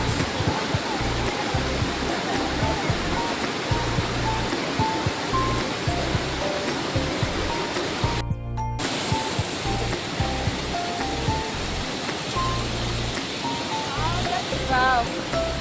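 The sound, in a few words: waterfall water flowing in Meghalaya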